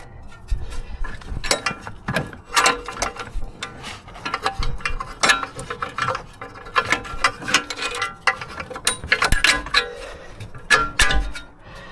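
Ratchet working on metal bracket bolts during a front wheel bearing job on a Mercedes-Benz W212 E250 4matic, giving repeated clicking and metallic clanks in irregular bursts, fairly close, with no talk.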